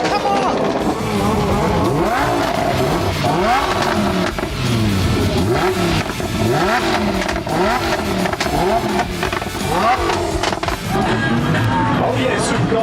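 Supercars accelerate and rev hard past a race start, a loud continuous string of rising and falling engine sweeps, one car after another, with tire noise and a voice talking over the roar.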